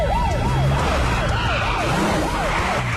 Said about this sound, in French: Les Dix, à fond les sirènes.